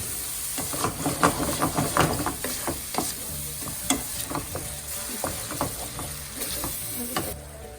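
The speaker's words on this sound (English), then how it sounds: "we will cook the masala with this peas for like 2-3 minutes" Masala and peas sizzle and hiss in a pan for paneer bhurji, with frequent spoon clacks and scraping as it is stirred, steady and close throughout.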